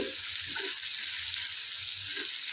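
Tomatoes with salt frying in a pan over a medium flame, a steady soft sizzle with a few light stirring scrapes, fairly quiet and close.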